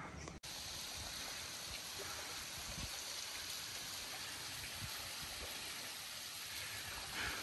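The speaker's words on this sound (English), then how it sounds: "So here we are at the waterfall." Waterfall in Guatemala, reached after a long hike, roaring as a steady, dense wash of falling water that fills the scene continuously without pause.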